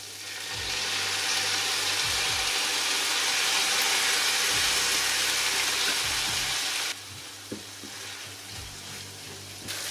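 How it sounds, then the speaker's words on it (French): Spices sizzle and fry steadily in a pan for a Beef Wellington faux-gras sauce, a loud continuous hiss with occasional scraping stirs, dropping to a quieter sizzle for the final few seconds. "Je fais bien revenir les épices pour qu'elles exploitent un maximum leur potentiel."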